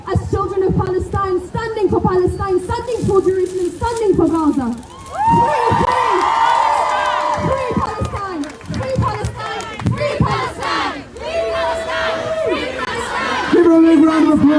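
A crowd at a pro-Palestine street protest cheers and shouts loudly, many raised voices surging and overlapping nearby, with some clapping mixed into the roar.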